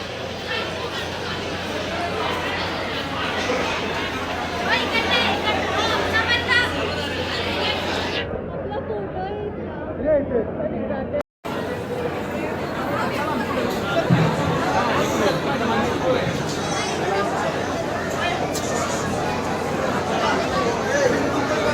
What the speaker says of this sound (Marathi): गुरुवार आहे म्हणून दत्तांचं दर्शन घेण्यासाठी खूप गर्दी आहे.